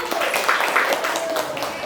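Students in a classroom clap for a presenting group, a short, fairly loud patter of hands lasting under two seconds.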